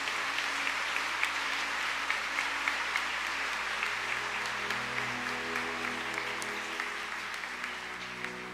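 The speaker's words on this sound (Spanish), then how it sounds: "den un fuerte aplauso al Padre Celestial" A church congregation applauds steadily and loudly throughout, a dense wash of many hands clapping with a low hum underneath, no voices standing out.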